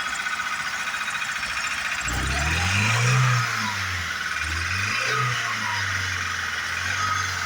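A Ford Scorpio with a 2.3 engine settles into a steady, low idle at close range, its rough pulsing hum lifting briefly before evening out, with no talk over it.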